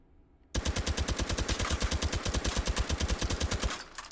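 Suppressed H&K UMP fires in the H3VR virtual reality game as one long, fast automatic stream of about thirty evenly spaced muffled shots with a mechanical clatter, starting abruptly and fading at the end.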